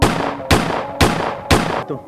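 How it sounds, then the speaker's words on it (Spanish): Four loud, sharp gunshots ring out at an even half-second rhythm, each a sudden blast followed by a short decaying tail. "Y en segundos, disparos."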